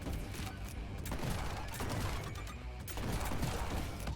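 Rapid gunfire in the video game Neon White, a dense barrage of close shots fired in quick bursts with brief pauses, loud and continuous.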